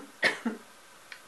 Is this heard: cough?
yes